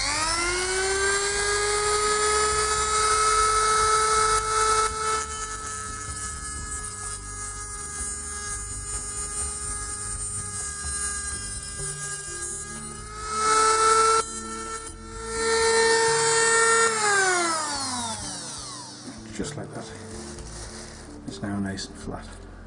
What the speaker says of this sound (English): So probably just cut that away with the Dremel